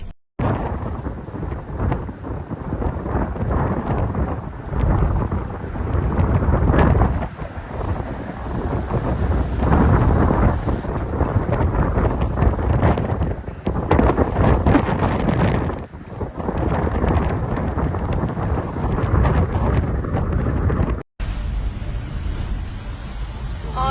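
Strong windstorm in Bursa buffets and rattles a car, with loud roaring gusts and rumbling that swell and ease over about twenty seconds before a sudden drop.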